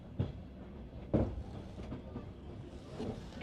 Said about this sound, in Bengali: ট্রেনের স্পিড এখন বাড়তেছে না, আস্তে আস্তে টানতেছে